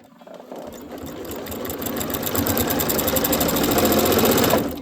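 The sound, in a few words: sewing machine stitching binding on a table runner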